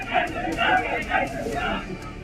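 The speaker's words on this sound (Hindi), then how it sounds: "जब मुहर्रम जुलूस के दौरान उपद्रवियों की भीड़ ने एक तंग गली में कट्टरपंथी नारे लगाए" A dense crowd chants slogans during a Muharram procession in a narrow lane, with loud, rhythmic massed voices rising and falling over steady crowd hubbub.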